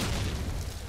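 A grenade blast in Call of Duty 2 on the Carentan map during a competitive match, a short dense boom with a rumbling tail that fades over under a second.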